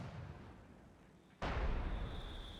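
Artillery barrage in Company of Heroes 2: a low background rumble, then a loud broadband blast that stays as a sustained roaring wash of impacts.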